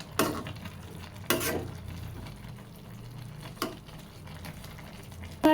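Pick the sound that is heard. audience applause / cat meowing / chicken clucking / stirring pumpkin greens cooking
stirring pumpkin greens cooking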